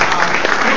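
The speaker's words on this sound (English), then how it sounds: "Doc Suggs, a round of applause." Steady crowd applause for Doc Suggs at a St. Louis community event, a dense, loud wash of clapping through the whole moment, with a voice faintly present underneath.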